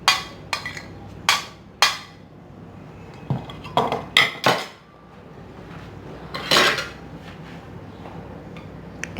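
Dal kabab ingredients being mixed in a bowl: sharp clinks and scrapes of a spoon against the dish, irregular and close, with quieter stirring between the knocks.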